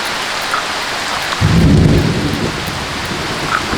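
A rainy-day thunderstorm with heavy rain pouring down as a loud, steady wash, a deep thunder rumble swelling briefly partway through, then the rain continuing alone.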